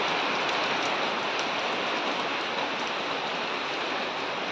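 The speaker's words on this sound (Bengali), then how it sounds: "দেখো কি বৃষ্টি পড়ছে" Heavy rain pours steadily outside a house, making a dense, even hiss that holds at the same loudness throughout, with no voices.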